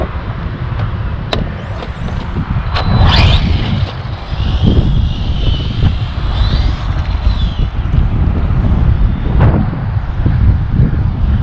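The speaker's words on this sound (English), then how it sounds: "So excuse the wind, I'm sorry about that." Strong wind buffets the microphone in a loud, continuous roar, with a vehicle rumbling by and a few sharp knocks.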